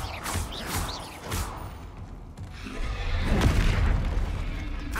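Confringo spell explosions in the video game Hogwarts Legacy, heavy booming blasts with thudding low rumble, several bursts in quick succession, loud and close.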